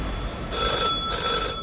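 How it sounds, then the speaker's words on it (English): A telephone rings in the video game The Last Caretaker, a steady electronic trill in two close bursts over quiet background hum, with no talking. "Oh, the phone is ringing."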